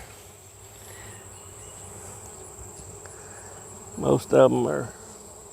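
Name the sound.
bees buzzing around a dropped hive frame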